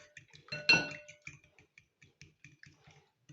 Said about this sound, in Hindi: अंडों को अच्छी तरह हमने बीट कर लिया है।